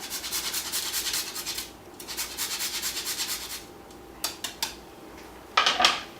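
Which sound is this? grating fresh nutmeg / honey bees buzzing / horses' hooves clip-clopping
grating fresh nutmeg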